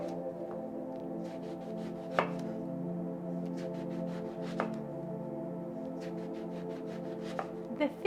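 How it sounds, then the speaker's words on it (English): A knife cuts an eggplant into rounds on a board, with several crisp chops at uneven intervals over a low steady background hum. "Take your knife and just go straight down."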